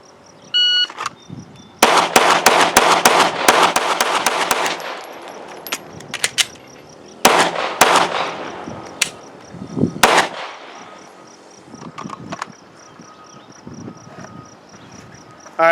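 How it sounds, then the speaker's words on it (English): Rapid strings of pistol shots at a shooting range during a timed drill, loud bursts separated by pauses, with crickets chirping steadily in the background. "I've got our target taped back up and I've got 10 rounds back in the gun"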